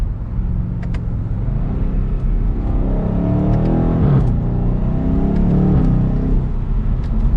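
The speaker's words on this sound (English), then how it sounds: "Let's do an acceleration in comfort mode" A 2022 BMW M850i xDrive Gran Coupe accelerating in comfort mode, with a steady engine drone rising in pitch and a short dip at a gear change partway through, heard from inside the car.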